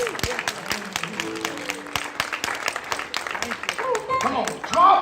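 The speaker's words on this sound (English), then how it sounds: "Clap your hands and give God some praise." A church congregation at a Sunday worship service claps their hands in praise, sharp irregular claps from many people overlapping at moderate loudness, with scattered voices and exclamations rising through the clapping toward the end.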